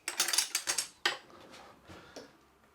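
A spoon picked up from among kitchenware while making a marinade: a quick run of close metallic clinks and rattles, then a sharper clack and a few softer scrapes as the clatter dies away.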